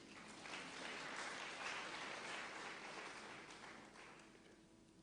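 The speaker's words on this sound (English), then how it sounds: "Please clap for him." Faint, distant audience applause for a surgeon at a lecture, a soft continuous wash of clapping that swells slightly and then fades toward the end.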